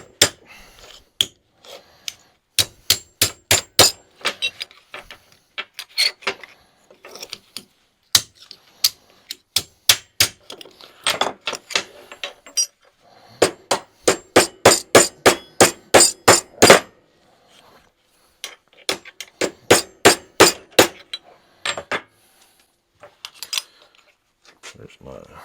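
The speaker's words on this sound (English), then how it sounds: "There's my hammer." Rapid bursts of ringing metal hammer blows in repeated runs, close and loud, separated by short pauses.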